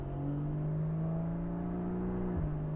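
A 2015 Porsche Cayman GTS with PDK gearbox pulls in normal mode, its engine holding a steady, smooth drone before a quick drop in pitch like a gearshift, heard from inside at moderate level.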